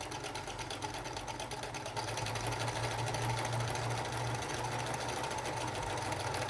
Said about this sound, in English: I'm just going to continue sewing